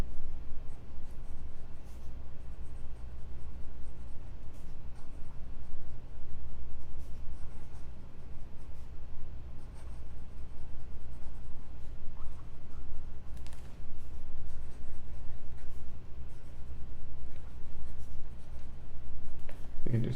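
Fountain pen, a Stipula faceted Etruria with a 0.9 mm nib, scratching quickly across paper in steady, close strokes over a low background hum, with no voice heard.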